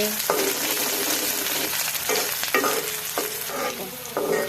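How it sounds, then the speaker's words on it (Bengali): Chopped onions fry in hot oil in a wok for a desi chicken curry, with a steady close sizzle broken by repeated scraping and clacking strokes of a spatula as they are stirred. "পেঁয়াজগুলা এইভাবে ভাজতে ভাজতে ভাজা হয়ে যাবে"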